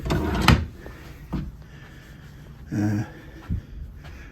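Empty drawers in a cruise ship cabin slide open and shut, giving a few short wooden knocks and scrapes spaced apart, fairly close in a quiet room.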